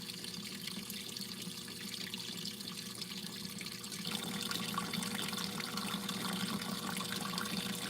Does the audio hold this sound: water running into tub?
yes